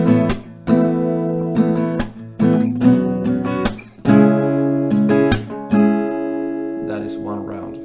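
Acoustic guitar strumming a song's chord progression in a down, down, up pattern, with sharp percussive claps or slaps on the strings between strokes, repeating in a steady rhythm up close.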